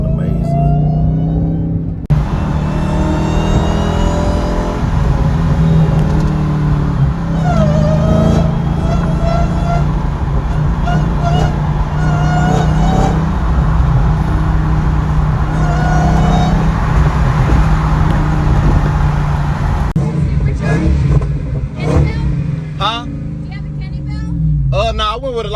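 A Dodge Hellcat fitted with a JLT cold air intake drives along, its engine droning loud and steady with rising revs, while someone talks over the rumble.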